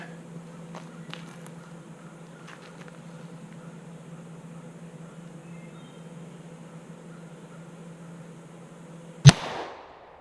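A single sharp shot from a short-barrel 300 Blackout rifle firing into a gel test block cracks near the end after a quiet stretch of low hum and a few faint clicks.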